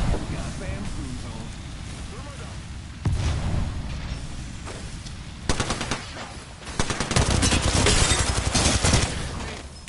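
Rapid machine-gun bursts and gunshots in the Apex Legends video game, growing louder and denser toward the end, with players talking over the shooting.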